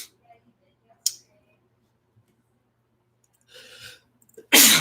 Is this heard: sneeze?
yes